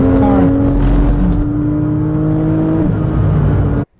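A GT3 race car on the Grobnik circuit roars loud and close with a sustained engine note. The pitch dips slightly as the driver lifts, then builds again as he eases back on the gas, and the sound cuts off abruptly at the end.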